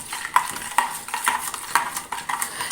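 A spoon stirs thick coconut milk mixed with ground cardamom for a sago payasam, scraping the pot in regular strokes about every half second, close and unaccompanied by talk.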